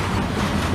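Steady low rumble of a passing train, a continuous dense roar of rail cars with faint wind noise and no clear rhythm of wheels.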